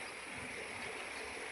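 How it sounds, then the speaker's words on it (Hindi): Faint continuous rush of a flooded river flowing after rain, a steady broadband wash of water heard alone at a distance, without talk. "नदी आप देख सकते हो पूरा बाढ़ है एकदम तक"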